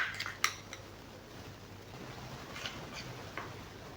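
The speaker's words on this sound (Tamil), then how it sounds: "இப்போ பாருங்கள், நல்லா வந்து பேஸ்ட்டு பதத்துக்கு நல்லா கலந்துக்கோங்க." Ajwain leaves are mixed into a hair paste in a bowl, with a few soft clinks of a spoon against the bowl early on and faint scraping taps later, quiet and close.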